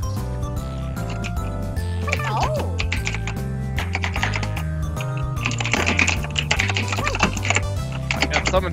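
Players of a Jackbox party game clatter away on computer keyboards, a dense run of quick keystrokes sitting under steady game music and chatter from several people.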